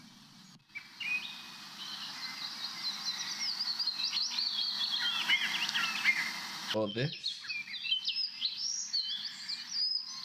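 An alarm clock plays dense, continuous birdsong with many chirps and trills, loud and close, over a low rumbling hum; a brief spoken phrase comes early on.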